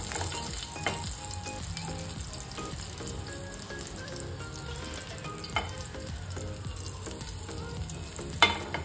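Curry leaves and finely chopped green chilies frying in hot oil for a tomato Maggi noodles dish, a steady close sizzle with occasional stirring scrapes and a couple of sharp clinks.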